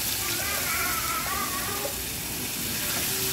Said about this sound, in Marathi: आता थोडंसं पाणी टाकायचं, आपल्या आवडीप्रमाणे